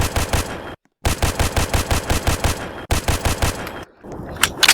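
An Uzi submachine gun in the Roblox game The Streets fires long rapid automatic bursts, loud and close. The bursts are broken by brief silent reload gaps, and a few clicks follow at the end.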